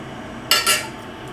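A utensil scrapes and clinks twice against a pot while moong dal with salt is stirred, two quick close metallic strokes in an otherwise quiet kitchen.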